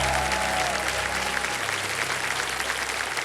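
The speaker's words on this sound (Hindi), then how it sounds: "जोरदार तालियां बज जाए" Studio audience applause on Kaun Banega Crorepati, a dense, steady burst of clapping from a large crowd that holds at full strength for a few seconds without any talk.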